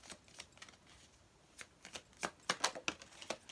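Tarot cards are shuffled and drawn during a reading, producing soft, close flicks and riffling snaps that grow busier toward the end, with no talking.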